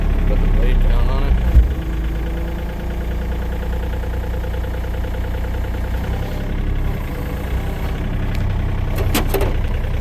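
The engine of a Huayee HY35C idles with a steady low rumble close by, holding an even drone throughout, with a faint knock and someone talking over it.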